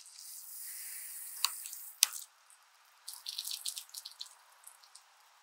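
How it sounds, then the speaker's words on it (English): Water vents from the chamber of an irrigation pressure reducing valve in short hissing, spluttering bursts with a few sharp drips and spits, close and fairly quiet, pausing briefly before sputtering again. "This will vent a little bit of water out of the chamber."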